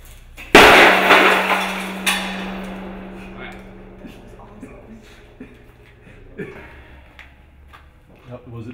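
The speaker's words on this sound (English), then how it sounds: "be there when the glass pops out of the cage" A glass piece pops sharply out of the cage during a compression test on a geopolymer concrete cylinder: one loud crack with a long ringing decay, a second smaller knock, then faint scattered clatter.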